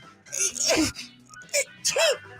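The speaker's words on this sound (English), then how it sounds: "Why would he keep sneezing into the voice message?" A sick man lets out a few strained, sneeze-like bursts and moans into a voicemail, loud and close, as if recorded over a phone.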